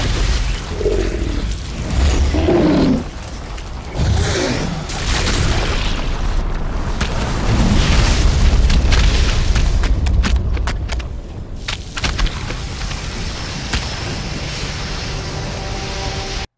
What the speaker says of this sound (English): Grenade to the eye.